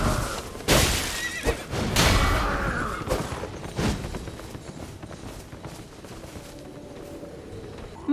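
Horses from the video game Elden Ring whinny loudly several times in bursts, mixed with clip-clopping hooves and scuffling movement that fade to a quieter rumble.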